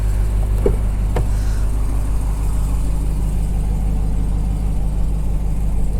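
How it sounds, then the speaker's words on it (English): A 2023/2024 RAM 1500 TRX Havoc Edition pickup's engine idles steadily with a deep, low rumble throughout, joined by a couple of brief clicks near the start. "I hear you idling away."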